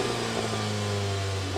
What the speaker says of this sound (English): let's do an exhaust test. All right, let's see how it sounds.